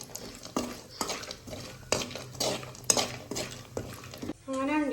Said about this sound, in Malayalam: അങ്ങനെ അണ്ടിപ്പരിപ്പ് മുന്തിരിയൊക്കെ വറുത്തിട്ടോ ഫ്രൈ ചെയ്തിക്കണം.